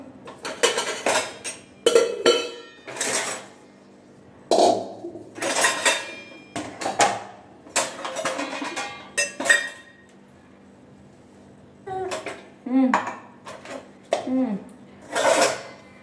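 Metal kitchen utensils and pots being set out at home, a series of bright clinks and clatters in separate bursts with quiet gaps between, and a voice talking in places.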